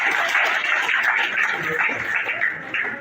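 An outdoor crowd at a water project dedication in Zolowee Town, Nimba County, Liberia claps in a dense, steady wash of applause with voices mixed in.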